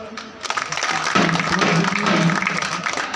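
A crowd claps at an Indian political gathering, steady dense applause filling the whole stretch and swelling louder after the first second, with faint voices mixed in.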